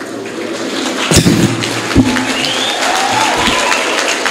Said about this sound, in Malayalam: ആദ്യമായിട്ടാണ് തോറ്റതിന് കൈയടി കിട്ടുന്നത്.